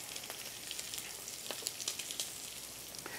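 Shrimp sear in a hot pan with a steady, bright sizzle and crackle, close and continuous, with scattered small pops throughout.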